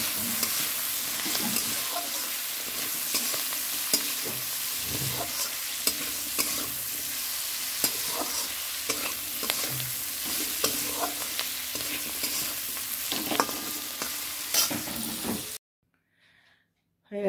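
Food sizzles and fries in a pan after salt, turmeric and green chilies go in. A utensil stirs and scrapes steadily near the mic, with brief voices in the background, and the sound cuts off abruptly near the end.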